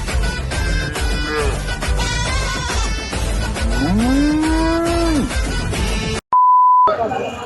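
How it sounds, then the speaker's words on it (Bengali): At a busy Korbani livestock market, a cow lets out one long, loud, close moo over crowd noise and music, and a short electronic beep follows near the end. "এই যে আমাদের গরু যায়, আরেকটা যাচ্ছে গরু, বিশাল বড়।"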